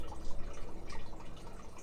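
Diesel fuel dribbles steadily from a loosened hose on a 1983 Mercedes turbodiesel, a continuous trickling, splashing patter that stays close and even throughout, with no talking.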